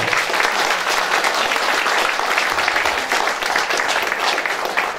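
An audience applauds at the awards closing ceremony of the 2015 Salon des Arts in Sérignan, a dense and steady round of clapping that fills the whole stretch at close range.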